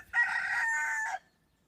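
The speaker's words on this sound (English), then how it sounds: "Thanks, Rooster." A rooster crows once, a loud, close, sustained call of about a second with a brief rise at the end, heard indoors near a workshop door with no talk over it.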